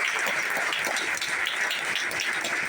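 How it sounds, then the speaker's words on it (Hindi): Audience at a stage-sharing seminar giving loud, sustained applause, a dense continuous roar of many hands clapping close by with no pauses. "ताली"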